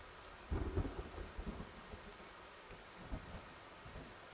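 Thunder from the video game Love and Deepspace rumbles in a nighttime scene. A deep roll builds early, with lighter crackles and a later rumble, all over steady rain hiss, quiet and distant, with no talking.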